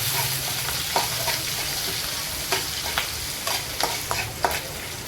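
Onions hitting hot oil with cumin seeds in a home kitchen, a steady close sizzle and crackle throughout with light stirring scrapes, no talking.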